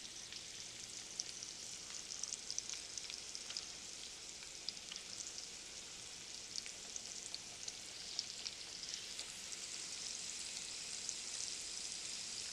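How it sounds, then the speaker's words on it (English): Seasoned chicken drumsticks frying in a pan give a steady, soft crackling sizzle with scattered pops, continuous and fairly quiet throughout, with no talking. "Let one side fry up and get good and crispy, maybe even burn a little bit."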